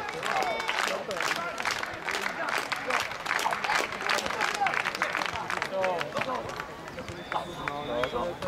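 An audience claps steadily through a doubles table tennis match at the Silesia Open 2012 between Poland and France, with dense, continuous applause and a voice talking over it.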